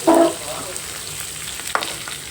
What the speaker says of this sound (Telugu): అలాగే ఎండుమిర్చి, పచ్చిమిర్చి, అలాగే కరివేపాకు కూడా వేసుకుందాం.